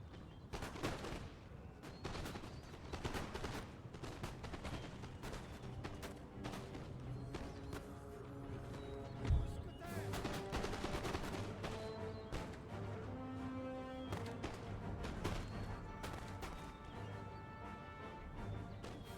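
Scattered musket volleys crackle across a Total War: Empire battlefield, irregular rifle reports layered over a continuous game music bed, with one sharper bang standing out midway.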